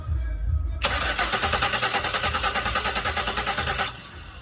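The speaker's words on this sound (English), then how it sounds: "So I'm going to jump the starter" A 2001 Pontiac Aztek with a 3.4 engine cranks steadily on a jumped starter, a loud rhythmic churning that begins abruptly, runs about three seconds without catching, then stops.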